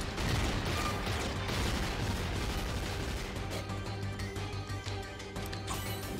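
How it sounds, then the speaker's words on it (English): In the platform game Shantae and the Pirate's Curse, an explosion smashes a vase inside an abandoned factory: a loud, dense burst of blasts and crashing debris that thins out toward the end, with no talking. "Oh, the explosion broke the vase."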